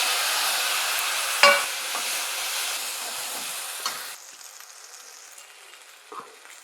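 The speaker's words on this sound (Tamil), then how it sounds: "மாங்காய் நல்லா வதங்கிருச்சு." Raw mango pieces sauté in a hot pan while someone cooks mango coconut rice, giving a steady frying sizzle and hiss with a sharp stir or clink near the middle, then fading quieter in the last seconds.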